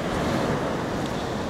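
Strong wind and surf roar on a seashore during a storm, a continuous, loud, broadband rush with gusts buffeting the microphone and no voices.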